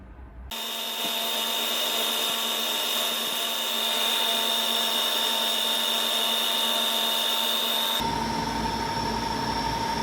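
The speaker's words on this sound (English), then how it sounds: "Drilling and chamfering my window tracks" A steady, loud mechanical whine of a power drill drilling and chamfering metal window tracks on a 1929 Chevy, running continuously with a sharp high-pitched tone, shifting slightly near the end.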